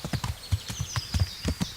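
Horse in the video game Kingdom Come Deliverance: rapid, rhythmic hoof clip-clops on hard ground, a dozen or so quick hits close by, with a faint higher tone running beneath.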